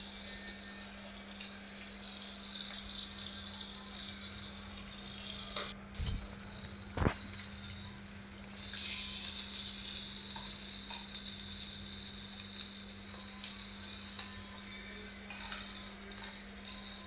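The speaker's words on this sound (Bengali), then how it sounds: "এই তোমার শাকটা নাড়াচাড়া দিয়ে নিচ্ছি" Radish greens frying in a pan give a steady, soft sizzle throughout, with a couple of sharp knocks and scrapes as they are stirred.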